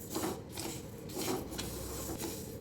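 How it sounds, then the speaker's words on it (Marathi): Pearl millet (bajra) dry-roasting in a pan gives a steady, soft rasping and rubbing of grains being stirred, with brief scraping swells throughout, close and moderately loud, with no talk. "ही पण बाजरी 3 ते 4 मिनिटं अशी खमंग भाजून घ्यायची।"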